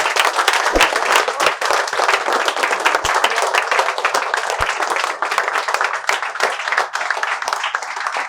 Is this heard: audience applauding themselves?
yes